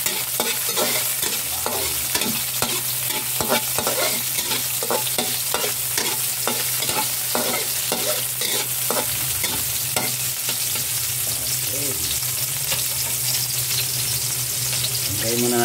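Onions, peppers and garlic fry in a little oil while a utensil scrapes and stirs them in a pan. Brisk, rhythmic scraping strokes repeat over a loud, continuous sizzle, up close and without talk.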